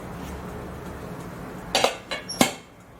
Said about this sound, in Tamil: இப்போ இதுக்கு இந்த மூடியை போட்டு மூடிடலாம்